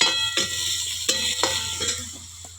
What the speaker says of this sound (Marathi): कांदा चुलीवर भाजून घेते